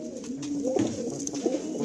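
Kalanka pigeons in a loft: soft, throaty cooing calls repeating close by, two or three rolling coos over a low steady background, no voices.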